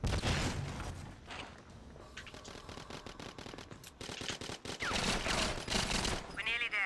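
Rapid automatic gunfire from a weapon in the GoldenEye 007 online match, loud bursts and repeated shots throughout with footstep-like thumps between them and a brief rising electronic tone near the end.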